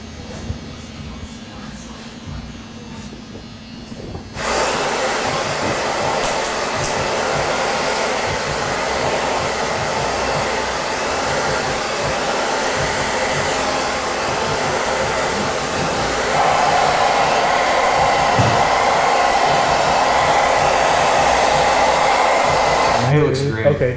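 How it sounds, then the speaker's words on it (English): Hair dryer blowing steadily on a man's styled hair after a haircut and beard trim in a barbershop, a loud continuous whooshing drone that starts abruptly, runs nearly twenty seconds, and cuts off at the end. "So I'm gonna throw some of our styling balm up on the dome to kind of blow dry it."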